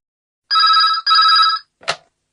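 A telephone rings twice in two bright electronic bursts, followed by a short click as it is picked up, close and clear in an English listening-test recording.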